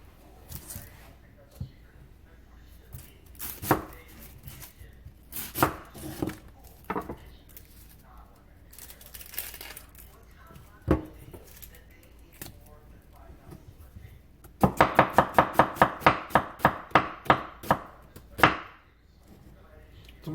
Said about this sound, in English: you flip your onion over to the other side. That way you're always slicing downhill instead of into your fingers.